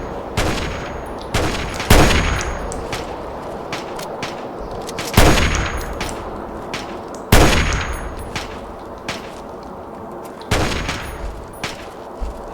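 Gunfire in the video game Fallout 3: several sharp, loud shots and bursts ring out at irregular intervals, each followed by a metallic clanging tail, with no talking.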